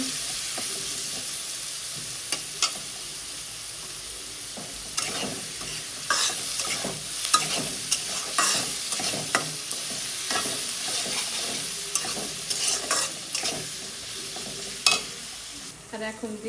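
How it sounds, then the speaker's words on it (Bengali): Onions fry in a pan for a beef chaap bhuna, with a continuous sizzle and bursts of spatula stirring and scraping that grow busier and louder midway, no speech. "পেঁয়াজটাকে এখন ভাজা নেবো"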